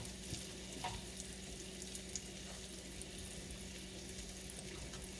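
Pork steaks fry in a skillet with a low, even sizzle and a few faint scrapes as they are moved around, quiet and steady throughout, with no voices.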